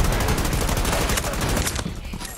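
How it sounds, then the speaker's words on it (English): Sustained rapid automatic gunfire from the shooter Battlefield 2042, loud and continuous bursts filling the whole moment with no pauses. "I'm gonna keep shooting there."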